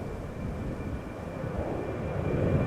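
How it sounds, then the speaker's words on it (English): KLM Boeing 737-800 airliner at Amsterdam Schiphol, a faint low jet rumble with a thin high whine, slowly growing louder over a few seconds, no voices. "so this should be KLM flight 1131 going to Copenhagen. Boeing 737-800."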